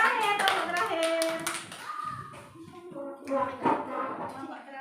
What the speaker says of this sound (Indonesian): tepuk terakhir